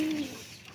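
A pigeon gives a soft, low coo released indoors, one drawn-out note followed by a faint rise at the end, fairly quiet against a light background hiss.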